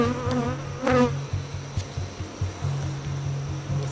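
Honey bees buzzing around an open hive during a frame inspection: a close, steady droning hum with wavering pitch as bees pass near, plus a couple of brief louder fly-bys.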